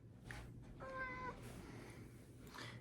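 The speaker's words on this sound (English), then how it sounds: "If you hear meowing" A house cat gives a single faint, short meow midway through, over a quiet low hum in an indoor room.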